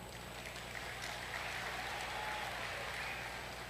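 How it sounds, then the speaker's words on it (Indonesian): Audience applause fills a hall during a political anniversary speech, steady, dense clapping that continues throughout at moderate level. "Yang kencang dikit tepuk tangannya."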